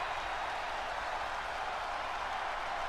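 A wrestling crowd in WWE 2K20 roars and applauds in a steady, dense wash of noise, continuous and fairly loud with no breaks.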